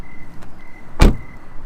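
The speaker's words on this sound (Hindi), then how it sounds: "कार का दरवाजा खोला" A car door opens in a dark roadside scene, one sudden loud clunk standing alone against a quiet background with a faint steady hum.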